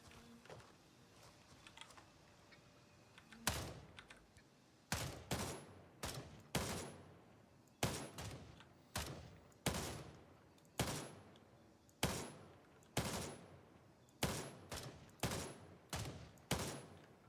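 Gunfire in the military shooter Gray Zone Warfare: a long series of sharp, loud broadband shots in quick bursts with short gaps, fired steadily over several seconds after a quieter stretch.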